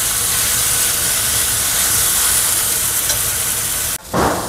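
Garlic and spices sautéing in a pan for chicken masala, a dense, loud, continuous frying hiss close by that cuts out briefly near the end before a burst of stirring.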